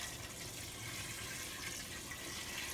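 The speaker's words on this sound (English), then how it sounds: "I'm going to take the 2 cups of chicken broth and I'm going to pour that over the" Two cups of chicken broth poured over pasta in an Instant Pot, a steady hissing, gurgling stream of liquid with no one talking.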